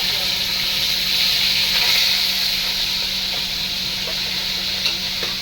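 Rohu fish pieces fry in hot oil in a kadai on a gas stove, giving a loud, continuous close sizzle with occasional small pops and clicks and no talking.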